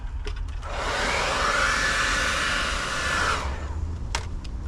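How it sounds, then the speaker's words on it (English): A hair dryer blows with a steady whooshing roar for a few seconds, close by, heating a part during a fuel pump replacement on a VW Golf Mk4 1.8T, then cuts off, leaving faint background noise. "See, hair dryer does the trick"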